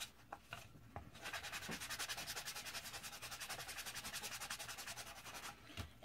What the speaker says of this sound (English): now I'm just going to use a sanding block to rough these up